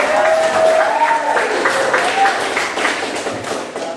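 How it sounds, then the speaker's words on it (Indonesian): Students in a classroom clap together during a lesson, a busy spread of hand claps mixed with voices and chatter that thins out toward the end. "Tepuk tangan."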